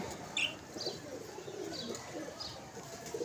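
Pigeons coo softly with a few short chirps and brief wing flaps, faint and close amid low background noise.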